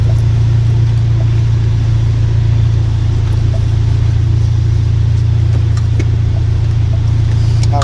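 A Ford Focus ST on the road heard from inside the cabin, with a steady loud low engine drone and road hum continuing evenly throughout without talk.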